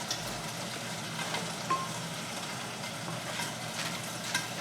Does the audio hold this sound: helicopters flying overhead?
no